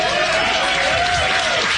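Audience applause and cheering at a comedy show recording, a dense continuous roar of clapping and crowd noise filling the whole moment.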